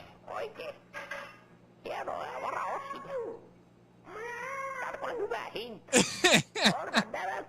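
A person imitates cat meows on a recording, a run of drawn-out, wavering mews and yowls with breaks between them, followed near the end by several sharper, louder cries.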